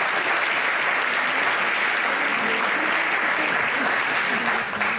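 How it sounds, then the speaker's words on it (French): Steady applause rises from the audience at a residents' council meeting in Vernier. Moderate, even clapping continues for several seconds with no break. "Je pense qu'on peut l'applaudir."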